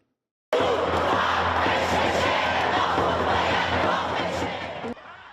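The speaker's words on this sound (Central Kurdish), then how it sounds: "ناڕەزایەتی و هوتافەکانی ئێرانەکانی دەفەری واشنگتن لە شەقامێکی تەنیش کۆشکی سپی" Iranian protesters chanting on a street near the White House in Washington, a loud, dense crowd roar of voices shouting in unison that starts abruptly and carries on steadily before easing off slightly near the end.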